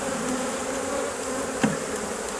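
Honey bees hum steadily at an open hive while being fed, a dense continuous buzz close by with one brief knock partway through.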